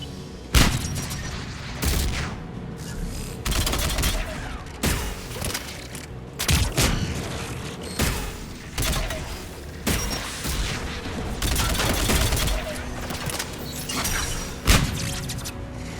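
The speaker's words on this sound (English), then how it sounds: "There! The guns protecting the tower!" Anti-aircraft guns fire at a tower in Mass Effect 3 in repeated heavy booming bursts with mechanical clatter between them, loud and close, with no talking.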